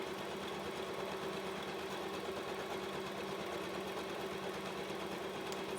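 A sewing machine runs a steady, continuous seam along the long side of a fabric Christmas cracker, a low even mechanical whir at moderate loudness with no talking.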